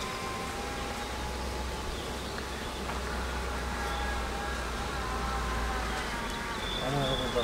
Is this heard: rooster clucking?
no